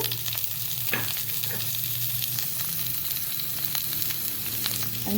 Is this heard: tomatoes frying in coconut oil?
yes